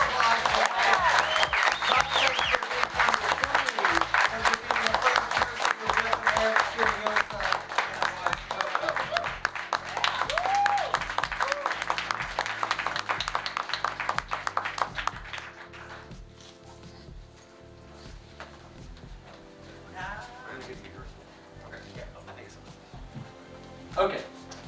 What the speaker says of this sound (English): So let's give a round of applause for Mike.